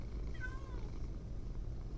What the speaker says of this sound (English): That's already the second cat we've gotten killed today.